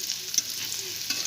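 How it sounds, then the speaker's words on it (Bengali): Garlic and five-spice seeds fry in hot oil with a soft, steady sizzle, with a few faint stirring clicks from a utensil in the pan. "করে আবার এটা একসঙ্গে ভেজে নেব।"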